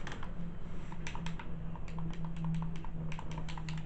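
Rapid, irregular plastic clicks of game controller buttons pressed during a Dragon Ball fight game, close and fairly quiet over a steady low hum, with no talking.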